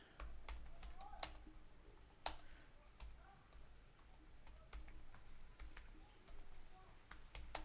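Keys tapped on a computer keyboard while entering a channel description, a quiet, irregular run of light clicks with occasional sharper strokes and pauses between bursts.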